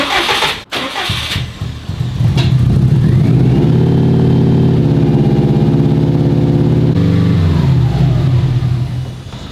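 A Subaru Impreza GC8 with an STi engine swap fires up and settles into a high idle from an unmetered air leak, the engine close and loud with a steady raised drone before easing slightly near the end.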